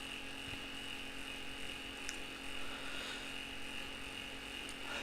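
A computer fan with a missing part whirs with a steady mechanical drone and a faint rattling, ticking texture, quiet and continuous throughout.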